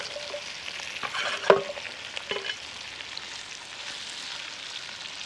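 Potatoes sautéing in a boerewors stew pot, a soft continuous sizzle broken by a couple of sharp stirring knocks and scrapes early on, then a quieter steady fry.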